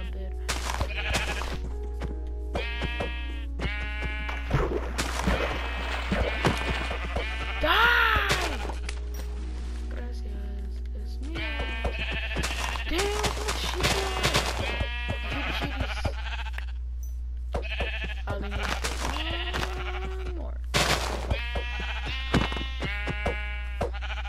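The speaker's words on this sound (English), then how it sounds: "Okay, I'm gonna kill these sheep for a bit." Sheep bleating in the video game Minecraft, a run of short bleats repeating in uneven clusters over a steady low hum, clear and fairly close throughout.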